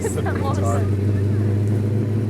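A Dodge Coronet's engine runs with a steady, deep, droning hum close by, holding an even pitch rather than rising, while people talk over it.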